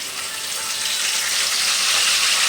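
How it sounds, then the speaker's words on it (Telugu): Curry leaves crackle in hot oil for a capsicum and tomato curry, making a loud, close, continuous sizzle that swells slightly, with no talk. "ఫస్ట్ ఆయిల్ వేసుకోవాలి గాయస్. నెక్స్ట్ వచ్చేసి కరివేపాకు వేసుకోవాలి."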